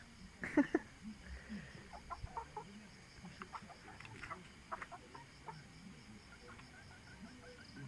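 Chickens cluck in short scattered bursts, fairly faint and somewhat distant, over a quiet outdoor background.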